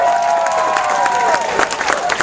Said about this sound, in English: let's have a round of applause for this fantastic parrot